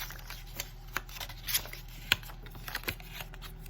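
Paper being rolled by hand into a tight cylinder for a paper sculpture, soft faint crinkles and rustles with a few sharper crackles, close-up and quiet.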